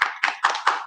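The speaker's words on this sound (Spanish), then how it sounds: "Desde aquí te mandamos un fuerte aplauso." Four close, crisp hand claps ring out in a quick, even rhythm over less than a second, near and fairly loud.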